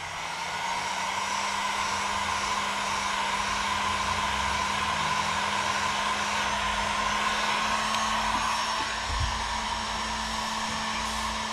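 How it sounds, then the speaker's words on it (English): A hair dryer blows with a steady, unbroken whoosh and hum at close range while removing stickers from an electric scooter wheel, holding the same level from start to finish. "heat gun, blow"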